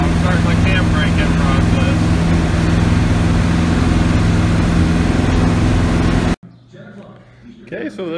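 A newly installed engine in an Impala runs during cam break-in, a loud, steady, droning roar with a constant low hum that continues for several seconds before dropping out abruptly, after which quieter background sound remains.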